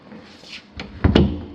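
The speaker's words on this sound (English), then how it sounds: "This door sticks or binds in its jam." A door in a new-construction house in North Dallas sticking and binding in its jamb, giving a few rough scraping knocks and a final thump, close by and with no one talking.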